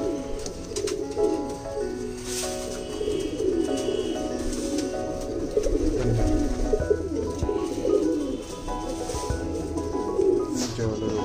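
Madrasi pigeons kept for sale cooing continuously, soft rolling coos layered with occasional chirps from a nearby flock, steady and close with no talking.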